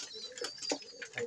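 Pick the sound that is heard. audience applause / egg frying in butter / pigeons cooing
pigeons cooing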